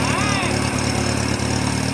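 A small Satoh S650g tractor engine chugs steadily at low speed as it is driven into a garage, a near, continuous putter with periodic thumps and voices talking over it.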